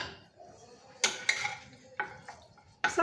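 Garlic and olives being stirred in a marinade, with a few sharp scraping and clinking strokes in a bowl, separated by quiet pauses.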